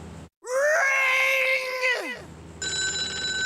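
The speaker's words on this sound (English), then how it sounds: "That phone is gonna ring." A telephone rings in the Sam & Max animated series. A long, loud wavering cry comes first, then a steady, bright ringing tone sounds clearly on its own in the final second.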